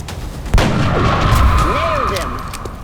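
Gunfire in the turn-based strategy game X-Com: Enemy Unknown, a single sharp loud shot followed by a ringing tail and lingering game effects.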